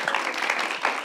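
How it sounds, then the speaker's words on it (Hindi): Brief burst of audience clapping at a comedy talk show, a dense even patter of many hands lasting about a second with no speech over it. "तालियां।"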